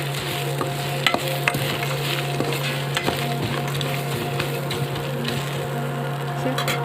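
Puffed rice stirred around a frying pan, giving a steady dry rustle and scraping with small clicks and taps, under a constant background hum, with no talking.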